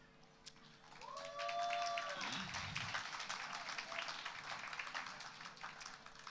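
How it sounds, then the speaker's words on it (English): An audience at a Living Legacy 2021 poetry performance claps after a poem, starting after a brief sustained vocal tone and continuing as a steady, moderately distant ripple of applause to the end. "you don't have to clap in between every poem, it's fine"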